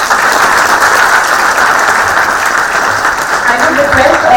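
Audience applause at a memorial lecture session, steady dense clapping throughout, loud and close, with a voice faintly heard under it near the end.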